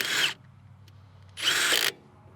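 A Milwaukee mid-torque 3/8 impact gun removes a bolt in two short, loud, close bursts of whirring rattle separated by a brief pause.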